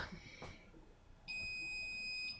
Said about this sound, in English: There's my timer. You heard it.